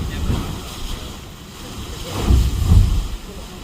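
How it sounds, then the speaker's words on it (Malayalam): Rough sea surges at the Kiama blowhole in Australia at dusk with rain about, heard as a heavy low rumble of waves that swells twice near the end, mixed with strong wind buffeting the microphone. "നല്ല റഫ് സീ ആണ് കേട്ടോ. അതിൻ്റെ സൗണ്ടും നല്ല ഭീകരമാണ് ഇവിടെ."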